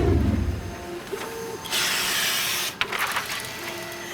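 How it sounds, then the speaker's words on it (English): A printer prints globe map gores, giving a steady mechanical whirr and hiss with a brief rising tone early on and a louder broadband rush through the middle, heard close with no talking. "That's the sound of the printer printing out the gores."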